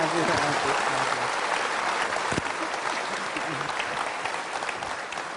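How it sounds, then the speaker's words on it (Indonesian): Studio audience applause on a talk show: a thick, continuous roar of clapping from many hands, loud and steady throughout, slowly tapering toward the end, with a brief voice or two underneath. "Kita tepuk tangan untuk sarung ajaib"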